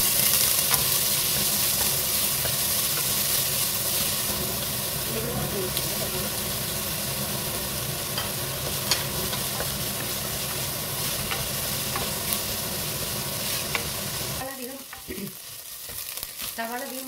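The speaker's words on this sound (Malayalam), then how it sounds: "വെളിച്ചെണ്ണ ചേർത്തിട്ടുണ്ട്, അതിലേക്ക് അരിഞ്ഞ വെച്ച സവാള ചേർത്ത്" Chopped onions sizzle steadily in coconut oil with occasional stirring, a continuous loud crackling hiss that drops off sharply near the end.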